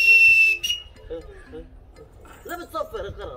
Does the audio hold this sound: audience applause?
no